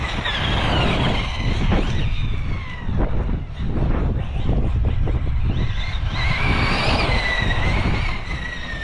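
A Losi 8ight-E electric RC car with a 4S motor running on a 3S battery, its loud, continuous motor whine rising and falling in pitch as it accelerates and slows over constant drive noise.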